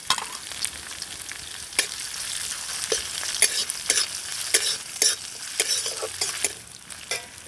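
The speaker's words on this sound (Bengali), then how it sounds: "আর দিয়ে দিচ্ছি গ্রেট করে রাখা আদা আর লঙ্কা কুচি" Grated ginger and chopped chili fry in hot oil in a pan for aloo patty filling, with a continuous sizzle. Sharp scraping stirs and clinks recur every second or so, close and fairly loud.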